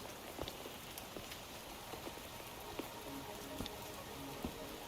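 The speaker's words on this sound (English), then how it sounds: "Are you trapped here by the rain?" Steady, faint rainfall in the video game Wuthering Waves hisses throughout, with scattered soft drops and small taps on a surface, and no talking.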